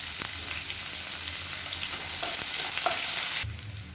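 Chopped onions, garlic and curry leaves sauté in a hot pan with a continuous close sizzle and light crackle, a few stirring scrapes along the way, and the frying sound drops off abruptly near the end.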